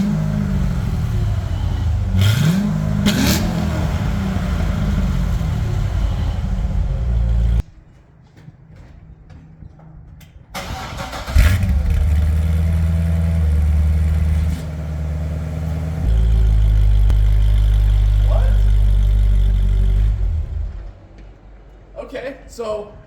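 Chevrolet Corvette C6 Z06 with a louder exhaust idles up close, a deep steady engine rumble that cuts out and returns in stretches, while people talk over it.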